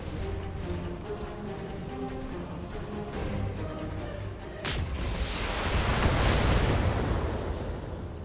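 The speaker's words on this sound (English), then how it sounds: "I got that ammo explosion." Mech ammunition exploding in the game Battletech, heavy booming blasts over an ongoing rumble of battle, swelling into a loud, drawn-out roaring burst in the second half.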